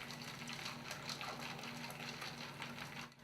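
Liquid poured into a cocktail glass after a dash of lavender bitters, a steady continuous gushing stream running the whole time, close and fairly quiet, with no voices.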